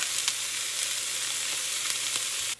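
Garlic and summer vegetables such as squash sizzle steadily in a hot pan for a stir fry, a continuous close frying hiss with a few soft pops and no talking.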